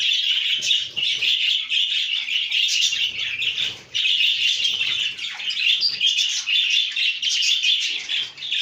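Many birds in an aviary chirp loudly together, a dense, continuous chorus of bright overlapping tweets with brief dips, close and lively, with no talking.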